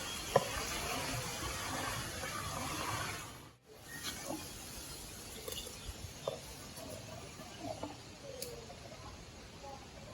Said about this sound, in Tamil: பாருங்க, பாயசம் நல்லா கொதிக்குது.